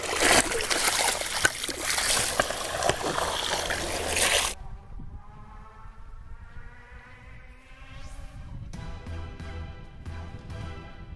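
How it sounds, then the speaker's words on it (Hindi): Water splashing and pouring out while a diesel Tata Vista car part is flushed, a loud rushing splatter that cuts off abruptly, followed by quieter trickling and dribbling water. "ये देखिए इसमें से अब क्लीन पानी आने लगा है"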